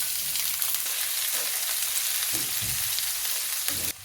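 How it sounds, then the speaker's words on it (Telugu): Chopped medium onions hit hot oil and fry with a steady, dense sizzle, punctuated by a few soft stirring knocks near the end. "ఒక రెండు మీడియం సైజ్ ఉల్లిపాయలని చిన్నగా కట్ చేశాను ఇవి వేసేస్తున్నాను"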